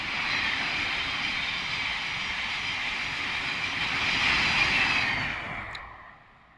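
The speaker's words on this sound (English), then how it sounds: "that train's departing for Moorgate, calling at all stops" A Class 700 electric multiple unit passes through Hadley Wood station on the East Coast Main Line, giving a loud, steady rushing roar that swells near the end and then fades away.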